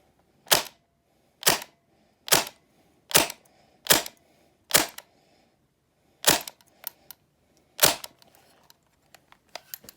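An MP5K gas gel blaster fires through a chronograph, giving sharp, close single shots at a steady pace of about one per second, then a few lighter clicks and pops near the end.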